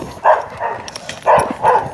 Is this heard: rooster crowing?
no